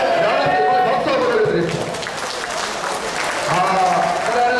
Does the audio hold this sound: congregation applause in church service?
yes